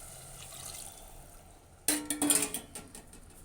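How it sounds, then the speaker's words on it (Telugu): Water is poured into a simmering chicken curry for chapati: a short burst of splashing liquid and pan clatter starts midway after a quiet start, with no talking. "కొంచెం అయితే వాటర్ పోస్తున్నా నేను."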